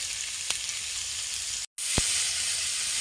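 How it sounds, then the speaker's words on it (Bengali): Potatoes frying in hot oil in a pan, a steady bright sizzle throughout with a couple of soft clinks and a brief cut in the middle. "পটলটা ভাজা হয়ে গেছে, এবার আমি আলুটা ভালো করে ভেজে নেব।"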